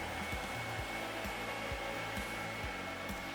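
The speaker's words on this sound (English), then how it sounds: "Our favorite feature of these dryers is how extremely quiet they are." A TD905 wall-mounted, heat-adjustable dog hair dryer runs with a steady, even airflow whoosh and a soft rhythmic low pulse underneath, continuous and fairly quiet, with no voices.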